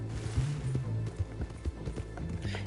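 Horse hooves clip-clopping in a Red Dead Online game, a quick rhythmic run of hoofbeats with a whinny, fairly faint and with no talk over it.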